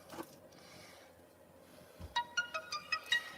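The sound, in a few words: notification alert sound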